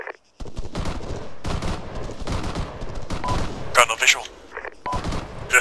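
Gunfire from a hillside firefight in a Shack Tactical military video game: bursts and rattling volleys, some loud and close, with a sharp flurry near the end, under steady talk between players.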